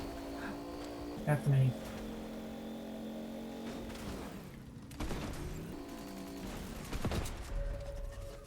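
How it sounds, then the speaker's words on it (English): Gunfire in an online multiplayer video game rattles in short bursts around 1.3 and 1.6 seconds and again near 5 and 7 seconds, mixed with engine-like game noise, while players chat throughout. "Oh, I hear some shooting."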